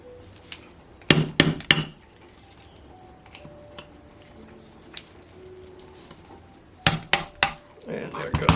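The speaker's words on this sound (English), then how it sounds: "rotate it around so I'm hitting on the bearing in a different spot every time." Sharp metallic hammer blows knock a bearing off the crankshaft of an OS FS-20 model four-stroke engine, a rapid triple strike near the start and another cluster near the end, with scattered lighter taps in between, close and loud.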